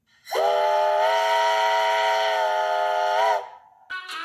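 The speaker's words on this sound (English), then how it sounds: "Here's a sample of the LM-192 whistle." The LM-192 whistle on Santa Fe 3751 steam locomotive blows one loud, sustained chord of about three seconds, cutting off sharply before a short second toot.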